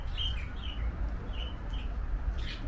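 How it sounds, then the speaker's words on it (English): Faint, high chirps and calls from several caged birds in a park aviary repeat over a low rumbling background, with no talking. "It's almost impossible to see birds in this cage. I can certainly hear them."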